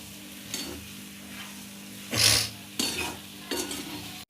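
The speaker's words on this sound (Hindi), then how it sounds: "अब इन सबको अच्छे से चलाएंगे।" Aloo vada filling of potato mixture with spices and amchur powder being stirred in a pan, a few separate scraping and clinking strokes with one louder scrape in the middle, close and alone with no talk.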